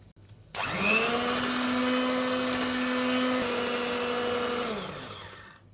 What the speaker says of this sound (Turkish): mikserle 5 dakika çırpacağım